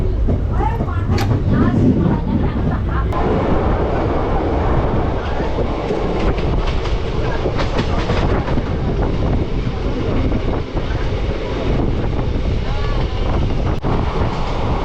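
A Santragachi–Digha fast passenger train rumbles along at speed past Andul, a dense continuous roar of wheels on rails with occasional clatter, loud and close throughout.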